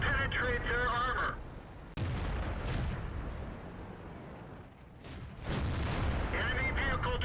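Tank gun firing and shells hitting an enemy in the World of Tanks game, heavy booming shots and impact blasts with rumbling tails, a game voice speaking over parts of it.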